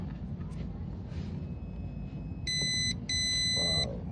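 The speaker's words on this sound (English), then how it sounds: "give it a try with the multimeter" A multimeter gives two sustained electronic beeps, each roughly half a second long, with a short gap between them, while it is used to test an LCD. A steady low hum runs underneath.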